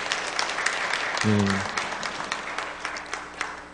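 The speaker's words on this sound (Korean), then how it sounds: "우리 하나님 찬양팀과 또 하나님께 영광의 박수를 올리겠습니다." Applause from a church congregation at a Sunday afternoon worship service, honoring the praise team: scattered clapping throughout, with a brief musical tone near the start and faint voices underneath.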